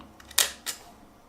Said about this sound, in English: When you're ready to fire your shot, you press the shutter button.